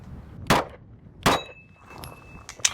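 A Dan Wesson DWX pistol's shots ring off steel targets on a range: two sharp, bright clangs about a second apart, then fainter pings and a ring trailing off, with no talking.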